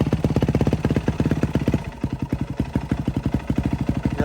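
A Yamaha WR450F dirt bike engine running just after a test-ride start with the choke off, a loud close thumping idle with an even, rapid beat that dips briefly and then settles back into its rhythm.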